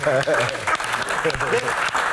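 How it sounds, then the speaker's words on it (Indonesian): Studio audience clapping on a podcast set, a brief steady burst of applause running under overlapping talk and laughter for about two seconds. "Asik, tepuk tangan dong."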